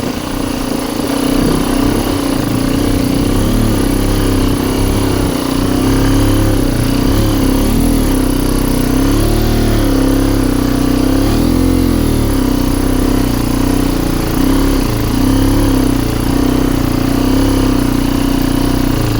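A scooter engine labours up a steep hill road, a loud, close, continuous drone that holds steady throughout without a break.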